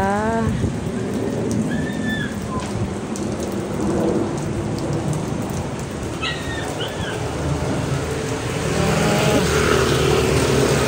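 Heavy rain pours steadily and loudly before a strong typhoon, a dense continuous roar with splashing drops close by, while birds chirp faintly in the background.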